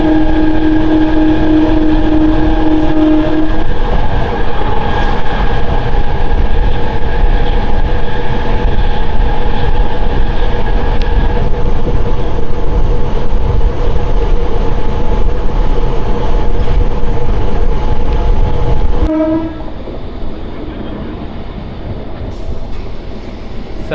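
A MEMU passenger train, number 67284, runs from Nidadavolu to Bhimavaram with a loud, steady rolling rumble and sustained humming tones, easing somewhat near the end.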